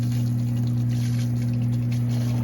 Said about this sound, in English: It's just draining the water out.